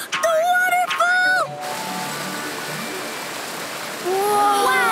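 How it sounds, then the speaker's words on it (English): A steady rushing roar of falling water fills the clip, a broad continuous wash heard behind brief excited voices at the start and end. "Do you hear that? Is that a waterfall?"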